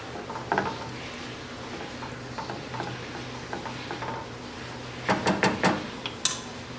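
Ground beef stirred with two cups of beef broth in a pan on low heat, a soft continuous swishing and light sizzle with scattered utensil scrapes, ending in a few sharper clinks against the pan.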